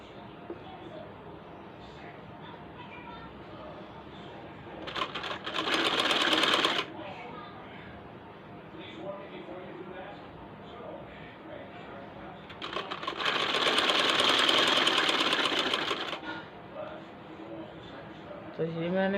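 An electric sewing machine runs in two bursts, a few seconds each, stitching the sleeve of a one-year-old baby's dress with a fast, even whirring clatter, and someone talks quietly between and over them.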